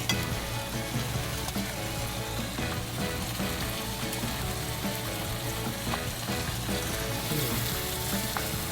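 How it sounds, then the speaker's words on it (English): Pork grilling in a pan, a dense, even sizzle and spatter that runs close and steady for the whole stretch with a few faint stirring knocks and no speech. "While we grill the pork"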